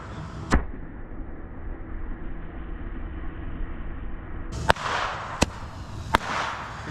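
Fireworks set off in a vacuum at a Fourth of July pool party give sharp loud bangs, one early and three more close together later, each cracking out over a steady roaring motor hum.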